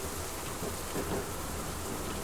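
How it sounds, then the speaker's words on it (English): Steady rainfall with low thunder heard from a balcony in the horror video game Labyrinth of the Demon King, a constant close hiss of rain and a soft rumbling underneath, with no speech. "let's head on out to the balcony, enjoy the rain"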